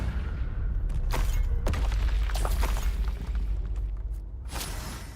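Confringo fire spell blasts in Hogwarts Legacy, loud booming bursts repeating every second or so over a constant low rumble, with sharp explosive cracks near the start and end.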